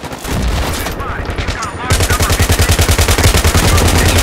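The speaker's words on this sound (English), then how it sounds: "all explosions do have a pressure wave that moves through the environment in a very realistic way" Loud, rapid bursts of automatic gunfire rattle in a steady rhythm after a dense roar of explosions and crackling blasts, close and intense.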